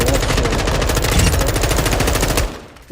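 An M4 rifle in Modern Warfare II fires one long, rapid automatic burst, loud and close, with evenly spaced shots for over two seconds before a short tail fades out.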